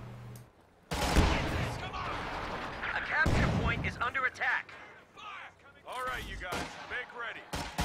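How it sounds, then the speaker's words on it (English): Heavy artillery fire in the strategy game Company of Heroes 2: an auto-fire shot and a quickly following barrage, heard as loud booming blasts in quick succession, with someone talking over the action. "he did an auto fire shot and then quickly followed up by a barrage"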